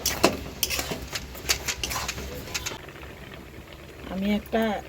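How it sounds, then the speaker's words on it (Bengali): Kheer of milk and sugar bubbling and being stirred in a pot, a soft, steady simmering patter with faint scraping throughout, and a brief voice-like sound near the end. "ক্ষীর বানাবো তো, নাড়িয়ে দিতে হবে ক্ষীরটা"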